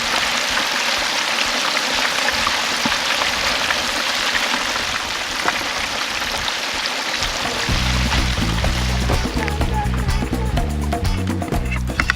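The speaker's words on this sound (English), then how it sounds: "straight into this giant cauldron of bubbling oil over fire" Fish fries in a giant cauldron of bubbling oil over a fire at a Tulum, Mexico ceviche and taco spot, with a loud, dense sizzle for several seconds before upbeat music takes over.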